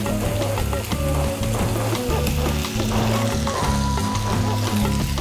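Potatoes and garlic fry in melted unsalted butter, a steady dense sizzle with soft crackles and occasional stirring scrapes, close and continuous throughout with no voices.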